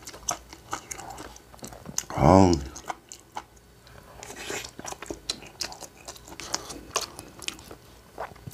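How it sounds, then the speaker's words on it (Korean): One loud, close bite crunches into a green onion kimchi egg pancake, followed by softer chewing and small mouth clicks while a voice murmurs in the background. "이모가 준 김치랑 해갖고 한번 먹어보겠습니다"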